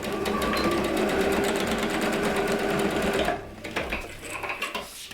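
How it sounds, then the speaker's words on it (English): A sewing machine runs a seam on a dress at a fast, steady mechanical chatter for about three seconds, then slows into short, quieter bursts before stopping. "I'm just gonna sew them together with a 1/2 inch seam allowance"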